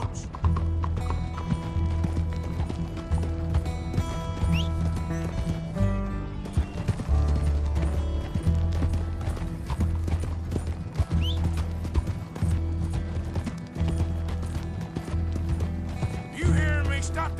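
Hooves of a horse-drawn coach clip-clop steadily in the Red Dead Redemption 2 video game, with rattling wheels and music layered over the continuous rhythmic beat.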